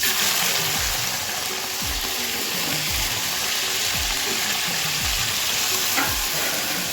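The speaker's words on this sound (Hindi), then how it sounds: "मिर्चा तलू और तेल हगलू मोरा आगे डाल दूँ मिर्चा" Chillies fry in oil on a stove with a loud, steady sizzle and crackle, and repeated low stirring scrapes run under it the whole time.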